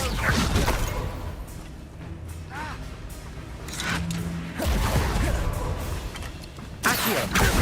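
Spell-casting effects in Hogwarts Legacy, a series of magical whooshes, swishes and creaking bursts that rise and fall over several seconds, ending in a loud swell, with game speech and clatter mixed in.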